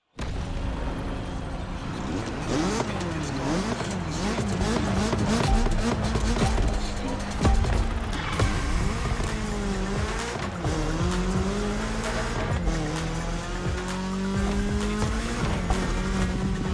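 A BMW M3 in The Crew Motorfest on PS5 Pro, its engine revving steadily with rising and falling pitch through gear changes while the tires squeal continuously, loud and close with no pauses.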